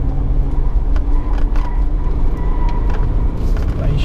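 Ford Ranger Limited V6 diesel pickup on four-wheel drive pulling harder, a loud steady low engine rumble with road noise inside the cab, a few faint clicks and knocks over the drone.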